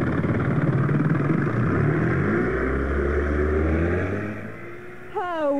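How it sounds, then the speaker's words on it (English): A speedboat engine roars loud and steady as the boat heads out to sea, a low continuous drone that eases off near the end before a brief tonal whine cuts in. "She started the engine and we roared out to sea."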